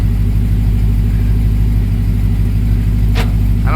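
A Jeep Gladiator 392 with reworked suspension drives along the road, its engine giving a loud, steady low rumble heard from inside the cab with a continuous road drone.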